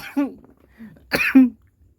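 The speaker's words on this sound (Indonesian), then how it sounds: "Gue sampai batuk-batuk." Two short bursts of coughing come from a single person at close range, separated by a brief pause. The second burst is stronger and ends with a throaty, voiced catch.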